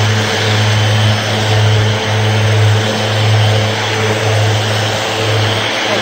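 A power sander levels a seam in a solid surface countertop with 60-micron abrasive. It makes a loud, continuous motor hum with a steady low tone. The drone wavers slightly as the sander moves over the surface.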